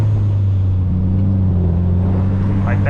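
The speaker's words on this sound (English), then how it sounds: "If I rev it, watch what happens. It like holds it." A Mitsubishi Evo 8 engine running on a swapped Link ECU revs and then hangs at a steady, loud, close droning pitch throughout, without dropping back.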